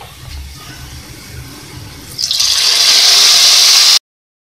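Hot tempering of red chillies, cumin and curry leaves poured into besan kadhi: quiet bubbling at first, then a sudden loud, bright crackling hiss that holds steady for over a second before cutting off.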